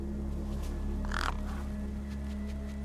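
A crow gives a single loud, harsh caw near the middle of a steady low game-ambience hum, with crows gathered over a corpse in Beyond a Steel Sky.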